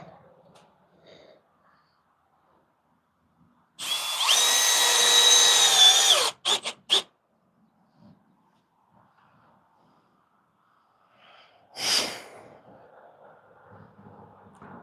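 A power drill driving screws into a wooden bear carving whines steadily for about two seconds, then gives two short bursts, with a final brief burst later amid quiet outdoor background.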